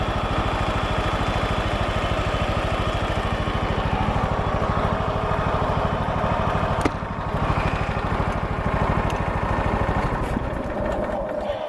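A John Deere LX172 lawn tractor's small engine idles steadily with an even, rapid putter, close and constant, with a brief clunk partway through and no speech.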